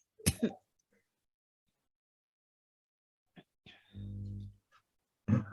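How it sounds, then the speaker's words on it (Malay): A single loud cough near the start, followed after a pause by a short throat clearing and a brief low grunt, with a voice starting at the end. "Sekejap batuk."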